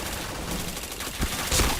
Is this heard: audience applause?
no